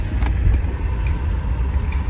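A Lamborghini engine runs with a deep, steady low rumble, loud and close, heard alone for a brief moment.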